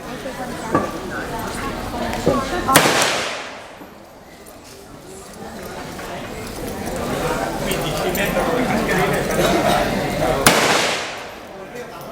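Two sharp AK-47 shots ring out at a shooting range at the Cu Chi Tunnels near Ho Chi Minh City, spaced several seconds apart over a busy, noisy background with people talking.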